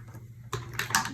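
A small typewriter-like adding machine prints in a few quick mechanical clacks and rattles, close and alone, with a louder burst of clatter near the end.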